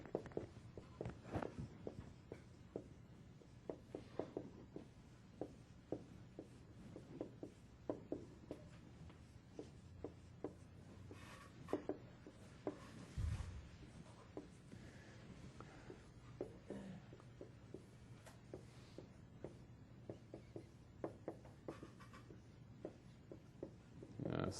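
Chalk writes equations across a lecture-hall board in soft, scattered taps and scratches, quiet and intermittent, with occasional faint background sounds between strokes.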